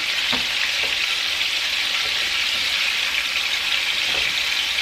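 Steady, loud sizzling and crackling of pork frying in a hot pan for Mexican pork in green sauce, with occasional faint clinks, continuous throughout and no voices.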